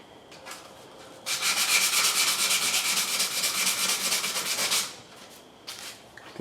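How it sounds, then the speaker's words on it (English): Sanding plastic parts being refinished for a Firebird: a steady, close, loud rasping rub lasting several seconds, starting abruptly and stopping, with quieter scrapes before and after and no voices. "So I guess I'm gonna start sanding."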